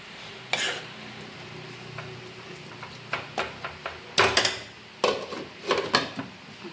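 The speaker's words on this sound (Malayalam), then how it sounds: "എന്നിട്ടിത് ഇളക്കിയിട്ട് ഒന്ന് മൂടി വെച്ചിട്ട് വേവിച്ചെടുക്കാം" A utensil stirs drumstick leaves with coconut and garlic in a pan, giving irregular clinks and scrapes that grow busier toward the end over a faint sizzle.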